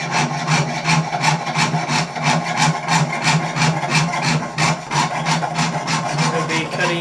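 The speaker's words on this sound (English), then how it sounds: "now it's showing you guys a little bit of sawing work, of cutting out our designs" A jeweler's saw cuts out stamped metal jewelry designs at a bench, with steady, evenly paced rasping strokes that stay loud and close, repeating about three times a second with no talk.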